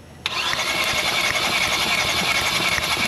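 Cranking of a 1.6 Kia Rio engine during a compression test on a hydrolocked flood car: a steady, loud, buzzing starter drone that begins abruptly and runs continuously without catching.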